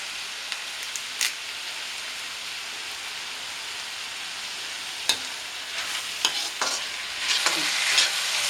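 Curry leaves crackle and sizzle in hot oil left from frying chicken while being stirred, a steady hiss with a few sharp spits and scraping stir strokes toward the end, close and fairly loud.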